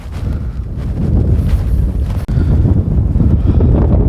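Strong desert wind buffets the microphone in a steady, loud roar with heavy low rumble and constant gusting, no voices heard.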